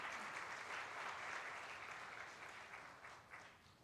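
Sustained applause from a church youth group crowd at an award ceremony, steady and dense for several seconds before gradually thinning toward the end.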